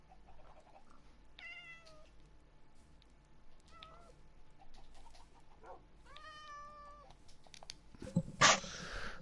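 Cats in the video game Minecraft meow several times, a few short separate calls spread across the stretch against a quiet background, with a brief louder rustling burst near the end.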